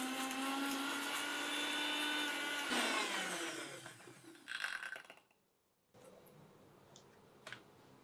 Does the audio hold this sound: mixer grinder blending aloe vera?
yes